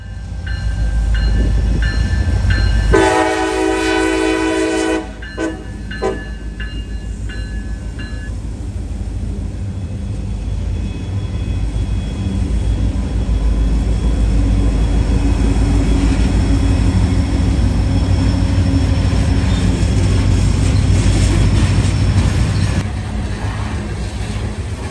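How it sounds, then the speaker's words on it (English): A CSX local freight train, L425 led by an ICMD lash-up, passes on the Toledo Sub, opening with a loud multi-tone horn blast and a few short toots, then a long steady rumble and rail clatter rolling by. "L425, a road local from Connersville to Cincinnati turn, takes its turn south after the NS grain train clears"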